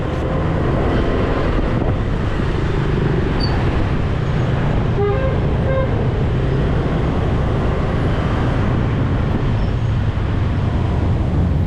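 Dense Saigon street traffic roars steadily with engines and motorbikes, while a few short horn toots cut through near the middle, set against the constant loud rumble.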